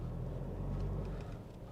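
Toyota Fortuner engine pulling in 4-high four-wheel drive, a steady low rumble throughout with no break, close and moderately loud, no voices.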